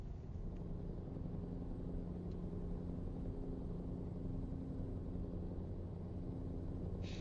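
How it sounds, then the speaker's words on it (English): A straight-piped Scania truck engine in Euro Truck Simulator 2 drones with a low, steady rumble that holds at an even level throughout, with no talk. "But the sound effect actually is straight piped Scanias."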